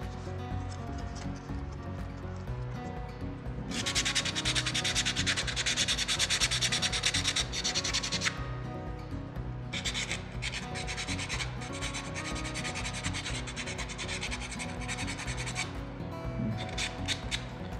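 Continuous close rasping of fine sandpaper worked over wood, a steady gritty hiss that swells and eases in long passes, with no talking.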